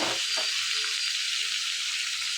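Boiled chickpeas fry in a pan with salt, chili powder and garam masala, producing a dense, steady hissing sizzle with a couple of soft stirring knocks at the start, close and unbroken.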